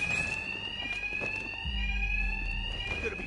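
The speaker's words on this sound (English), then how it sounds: "Two-Face's thugs won't hear me over the alarm." A steady electronic alarm rings throughout a scene in the video game Batman: Arkham Knight, holding a sustained high tone. Low rumbling game sounds sit beneath it and grow stronger partway through.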